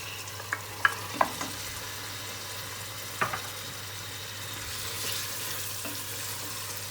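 Tomato paste, tomatoes and vegetables frying in a pan for bulgur pilaf, stirred with a few distinct scraping knocks over a steady low sizzle, alone with no talk.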